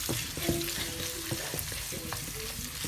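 Sausages frying in a pan over a small flame give a steady, close sizzle with scattered pops and clicks of stirring, and no one speaks.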